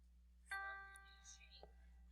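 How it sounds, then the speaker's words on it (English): A single G quarter note played on a keyboard rings out cleanly for about a second and stops, quiet and close over a steady low hum, with faint soft noises afterward. "You are going to take your right hand and play G with your pinky finger."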